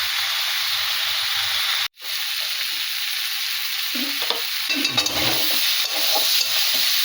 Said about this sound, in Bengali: আর একটু সময় ধরে আস্তে আস্তে করে কষালে ভালো হবে রান্নাটা